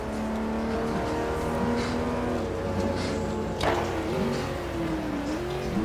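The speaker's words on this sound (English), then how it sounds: "I've got his engine sound in my headset right now" Race car engine in a GT1 racing video game at Spa, a steady droning tone with shifting pitch as the car runs low on fuel, continuous and fairly loud with a brief sharp burst partway through.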